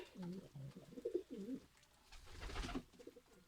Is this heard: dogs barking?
no